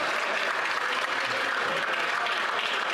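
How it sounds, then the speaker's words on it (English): Sustained applause fills the House of Commons chamber, a dense, steady roar of many hands clapping at even loudness from start to finish with no speech over it. "And the applause ensues."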